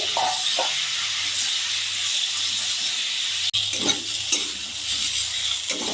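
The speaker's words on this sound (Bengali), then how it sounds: "এঁচোড় আলু লাল লাল করে ভেজে নিয়েছি।" Jackfruit and potato pieces fry in hot oil in a wok, a steady close sizzle with repeated scraping stirs of a spatula and one sharp knock partway through.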